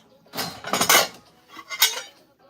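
Metal baking pans clank and rattle in two short bursts of handling as they are set out and prepped for a cake in a home kitchen, close and fairly loud with no talking.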